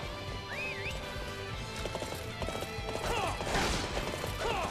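Horse hooves clip-clop and a horse neighs amid battle clamor in the video game Dynasty Warriors 8 Xtreme Legends, with sharp hits and mechanical noise layered over a steady game soundtrack.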